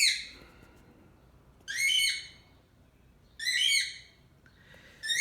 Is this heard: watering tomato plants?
no